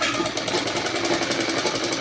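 A sewing machine stitches a suit along marked lines with a fast, rhythmic, close mechanical whirr that stays steady and unbroken throughout.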